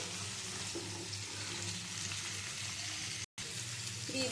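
Cut pointed gourd and other summer vegetables fry in a pan, giving a steady close sizzle with a brief gap of silence near the end.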